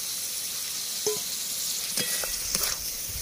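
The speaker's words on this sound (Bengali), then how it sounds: "এবার ভেজে রাখা আলু পটল দিয়ে দিলাম," Fried potato and pointed gourd pieces sizzling in oil and spices as they are stirred, a continuous close hiss broken by a few spatula scrapes and knocks.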